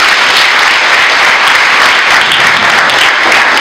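A crowd at a digital education challenge event gives loud, sustained applause for student volunteers, a dense, even roar of clapping hands heard up close without pause.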